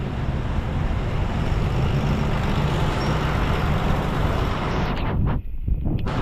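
Road traffic in light rain, a steady broadband roar of passing vehicles with a heavy low rumble, close and continuous, easing briefly near the end with no speech.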